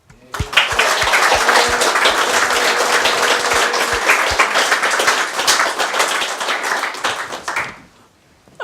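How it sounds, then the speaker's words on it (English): Sustained applause from a meeting audience as organisers are thanked at a biennial general meeting, a steady dense wash of clapping lasting several seconds before stopping abruptly into quiet. "particularly Dave, can we just say a big thank you, a round of applause and a vote of thanks"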